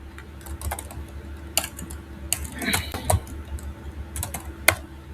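Someone types HTML code on a computer keyboard in short, irregular bursts of sharp clicks, with brief pauses between them and a denser flurry of keystrokes in the middle.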